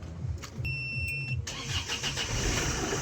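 Kia Bongo III engine cranking and catching after a battery and main relay fault repair, a whirring start followed by a steady, loud idle rumble close by.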